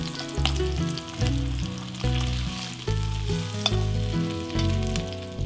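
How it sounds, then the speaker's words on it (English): Teriyaki salmon pan-frying after being flipped, a steady sizzle heard beneath prominent background music with sustained tonal notes that change every second or so. "Cook the salmon for 3 minutes or until the bottom is golden brown. Then flip and cook the other side."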